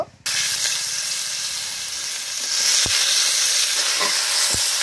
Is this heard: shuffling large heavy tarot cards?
no